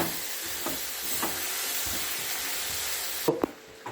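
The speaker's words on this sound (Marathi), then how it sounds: "आता आपण यामध्ये घालूया अगदी बारीक चिरलेले टोमॅटो आणि त्यावर थोडंसं मीठ घालूया" Onion, chopped tomato and salt sautéing in a pan give a steady sizzle with a few stirring scrapes near the end.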